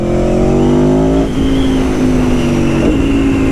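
A V4 sport motorcycle, Ducati Streetfighter V4S or Aprilia Tuono 1100 Factory, holding a loud, steady high-revving engine note close by, the pitch stepping down twice as the revs drop briefly.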